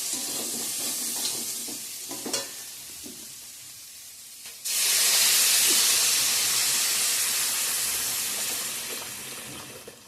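Hot water poured into a sizzling potato and cauliflower masala, a few stirring clicks over gentle frying, then a sudden loud, hissing burst of steam that slowly eases, no voices.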